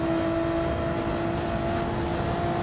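Honda NSX race car engine at full revs on the Interlagos circuit in a racing video game, a steady sustained whine with constant tonal hum, loud and continuous throughout without talk.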